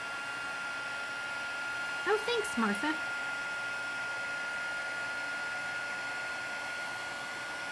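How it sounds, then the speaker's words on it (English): A craft heat tool blows steadily to dry watercolor paint, a constant airy hiss with a thin whine running the whole time, while someone briefly speaks over it. "I don't know if you know this or not, but our heat tool has a water drying side."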